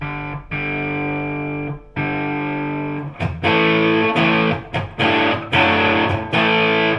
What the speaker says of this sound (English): can we get a sound out of this, a decent distortion sound?